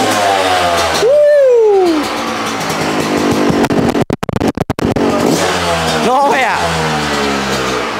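A motorcycle engine is kick-started, sputters to life and revs loudly, rising and falling in pitch, with a short choppy stutter midway before roaring steadily again close by.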